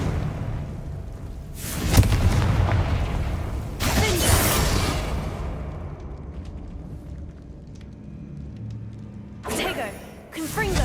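A Confringo blasting spell goes off in the Hogwarts Legacy video game, a series of loud, broad explosive bursts spaced a few seconds apart over a steady background rumble, with a voice speaking in between.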